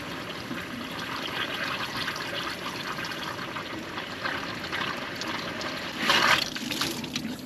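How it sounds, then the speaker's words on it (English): Water leaking from a radiator hose on a Toyota 22R pickup: a steady, faint trickle and splash, with a slightly louder gush near the end. "That hose is leaking like a sieve."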